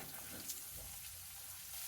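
Soft, continuous sizzling of chopped onions frying in oil, faint and steady with a low background rumble.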